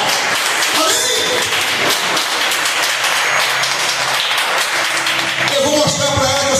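A Baptist church congregation claps and applauds in a steady, dense patter while voices carry over it, some chanting or singing toward the end.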